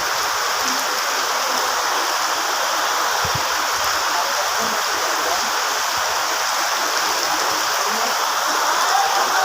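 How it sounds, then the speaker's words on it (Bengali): Heavy rain pours down in a dense, constant roar of water with a steady splashing hiss, loud and close, flooding a fruit wholesale market. It continues unbroken with no talk. "মারাত্মক লেভেলের বৃষ্টি হইতেছে"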